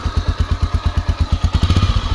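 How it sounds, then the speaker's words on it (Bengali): A 2021 Pulsar UG-7 motorcycle in pearl color idles up close, its single engine thumping in a steady, even rhythm of loud pulses with a faint mechanical clatter on top. "আর এখন আপনাদের হচ্ছে বাইকের ইঞ্জিন সাউন্ডটা একটু শুনিয়ে দেখাবো।"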